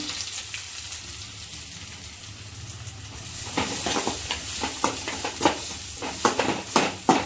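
Shallots sautéed in oil with popped mustard seeds for a fish fry gravy: a quiet start, then steady sizzling with repeated scraping stir strokes that grow louder and closer.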